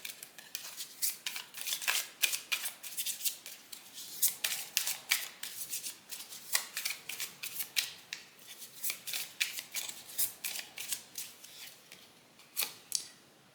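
Tarot cards being shuffled by hand, crisp riffling bursts repeating in a steady rhythm, close and clear with no voices.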